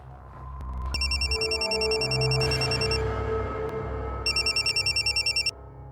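A telephone rings in two bursts of rapid electronic trilling, the first longer, over a steady background hum with no talking.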